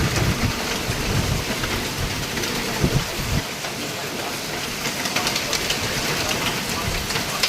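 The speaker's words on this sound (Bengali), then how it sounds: "প্রচণ্ড বৃষ্টি পড়ছে প্রচণ্ড" Heavy torrential rain with gusting wind during Cyclone Remal in Bengal, a loud, dense roar with low rumbling thumps early on, steady to the end; someone speaks briefly beneath the downpour.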